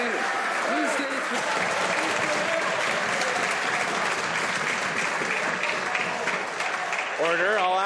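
Members of Canada's House of Commons applaud in a sustained, dense clatter of clapping that stays steady for several seconds, with a voice speaking over it near the end.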